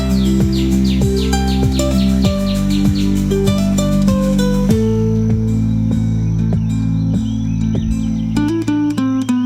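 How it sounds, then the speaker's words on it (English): Red avadavat, the sparrow-sized red munia or strawberry finch, at a lake in Hyderabad in winter: a quick run of high, thin chirps over a strong steady hum and tonal drone that largely covers the bird. "The red avadawan, also called as red munia or strawberry finch, is a sparrow-sized bird."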